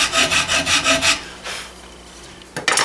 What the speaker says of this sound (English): I just reverse my rasp and go the other direction.